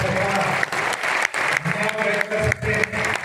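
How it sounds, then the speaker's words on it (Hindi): A crowd at a Vijay Diwas speech gathering claps loudly and steadily in a dense wash of applause, with a voice speaking faintly beneath it throughout. "जोरदार तालियों के साथ"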